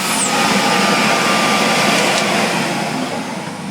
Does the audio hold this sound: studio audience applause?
no